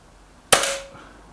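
Single sharp crack from a Hatsan AT44 air rifle firing on a target range, a sudden loud report with a ringing pellet-impact tone trailing off over a fraction of a second after a quiet lead-in.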